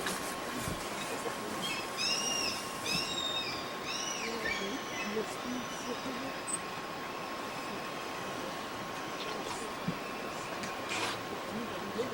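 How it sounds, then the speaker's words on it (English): Birds at Fish Creek chirp in short repeated calls through the first half, fairly faint over a constant hiss and a steady hum, then thin out; no clear talk. "And there's birds up there now."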